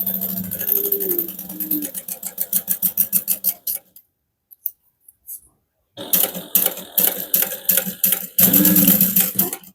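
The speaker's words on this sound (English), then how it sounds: "we're going to sew along the bottom edge first, using a 1/8 inch seam allowance" A sewing machine stitches along the bottom edge of a harmonica hobo bag at a 1/8 inch seam, its rapid needle pulses running in bursts broken by a quiet pause and a few small clicks, then resuming loudly.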